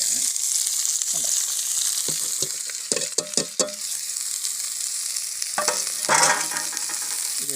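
Sliced onions and ginger sautéing in a hot pan, a continuous loud sizzle broken by clattering bursts of a spoon stirring and scraping the pan.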